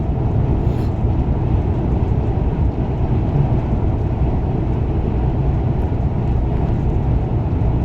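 A train runs alongside a truck on a drive from Denmark to Germany, a steady, loud, broadband rumble that holds unbroken for the whole stretch with no talking.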